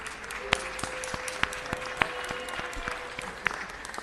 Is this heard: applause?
yes